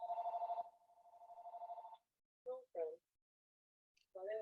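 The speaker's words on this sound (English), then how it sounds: "we just heard somebody's phone ring" A mobile phone rings in a room during a Christian mindfulness session, a bright repeating electronic trill sounding twice before stopping, followed by short bursts of nearby speech.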